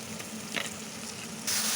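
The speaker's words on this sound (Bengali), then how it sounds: "মশলা দিয়ে খানিক্ষণ কষিয়ে নেব" Spices fried with browned onions, ginger-garlic paste and cumin paste in a pan for a red goose meat curry, giving a steady close sizzle that swells louder near the end.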